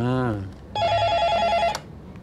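A brief voiced tone comes first, then a telephone bell rings in one loud, steady electronic burst lasting about a second before cutting off.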